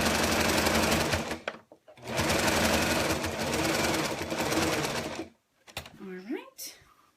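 Sewing machine stitching a snuggle blanket, long steady bursts of rapid mechanical whirring up close, broken by short pauses, with a voice speaking briefly near the end.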